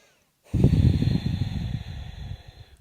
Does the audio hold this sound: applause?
no